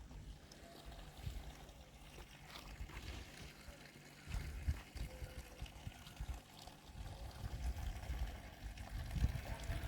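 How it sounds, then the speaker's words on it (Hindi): Fresh mountain spring water flowing out of an old public water source beside Gobind Sagar Lake, a steady trickling, splashing stream running close by with low rumbling background noise throughout. "अभी देखो यहाँ से पानी निकल रहा है, पहाड़ों का पानी है"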